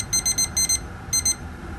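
A kitchen timer goes off while bitter gourd cooks in oil, giving rapid groups of high, piercing electronic beeps in quick bursts, then a pause and one shorter burst, loud and close.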